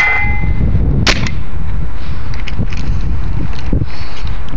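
A Tippmann A5 paintball gun fires one sharp close shot, followed by softer clanks and knocks from handling nearby.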